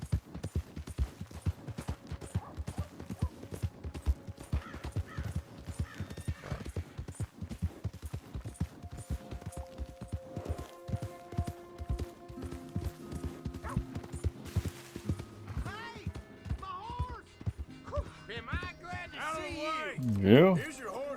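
A horse's hooves clip-clop in a steady walking rhythm in the Red Dead Redemption 2 video game, with game music and someone talking over it, and a short whinny rising near the end.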